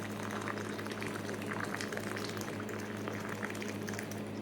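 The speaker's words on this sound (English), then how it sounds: "we're just going to add in hot water" Freshly boiled hot water streams steadily from a kettle, a soft continuous pouring rush with a low hum beneath it, fairly quiet and unbroken for several seconds with no voices.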